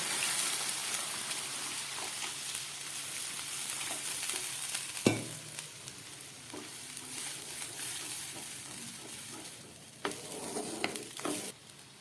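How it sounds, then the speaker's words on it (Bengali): Water goes into a pan of mustard-poppy paste that has been frying in oil, giving a soft, fairly faint sizzle and bubbling with a sharp clatter near the middle and a few stirring scrapes near the end. "এবার আমি দিয়ে দিচ্ছি জল"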